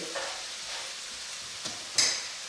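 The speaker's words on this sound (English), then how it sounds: "I'm gonna flip this fried egg one more time." A fried egg sizzles steadily in a pan, a soft continuous crackle with a couple of brief sharper spatters near the end, heard alone without talk.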